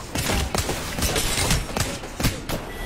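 Gunfire in an online multiplayer shooter game, a rapid run of sharp muffled thumps and bursts repeating across the moment at steady loudness, with no voices over them.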